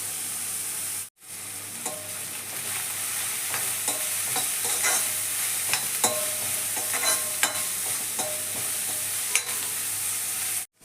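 Small shallots sauté in a pan with salt and turmeric, a constant close sizzle with scattered spoon clinks and stirring scrapes, briefly cut off by a short gap near the start.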